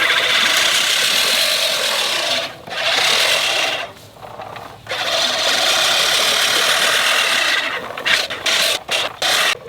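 A lawn mower drones close by while cutting brand-new fescue and bluegrass turf low, its steady buzzing whir dipping briefly a few times and turning choppy and intermittent near the end.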